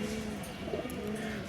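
Satin pigeons kept in a loft coo in low, soft repeated phrases, close by and fairly quiet, with faint higher bird chirps now and then.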